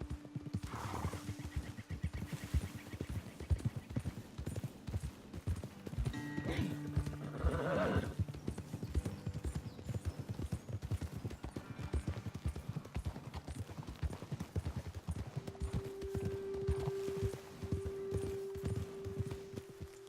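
Horses clip-clop at a steady trot in the Red Dead Redemption 2 video game, hooves close and continuous, with occasional whinnies and snorts, a sustained tonal hum in the background, and faint talk.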